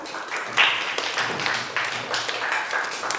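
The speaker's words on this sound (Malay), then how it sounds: "berikan tepukan" A class claps for a student during a lesson on the funeral prayer, a brief, fairly soft patter of hands that carries steadily for a few seconds before fading.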